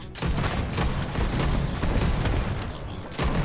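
Heavy weapon fire from a hand cannon in Starfield, several loud blasts in quick succession merging into a dense, booming burst with no talking.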